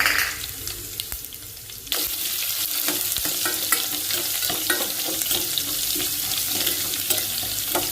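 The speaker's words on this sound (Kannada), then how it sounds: "ಇದು ಬೆಳ್ಳುಳ್ಳಿ ಜಜ್ಜಿ ತೊಗೊಂಡಿನಿ ಹಾಕೊಳತ್ತೀನಿ. ಒಂದೆರಡು ಒಣ ಮೆಣಸಿನ್ಕಾಯಿ ಸಣ್ಣ ಕಟ್ ಮಾಡಿ ಹಾಕೊಳತ್ತೀನಿ" Crushed garlic and chopped dry red chillies fry in oil for tomato sambar, starting as a quieter sizzle and then jumping to a loud, dense crackling hiss with scattered pops.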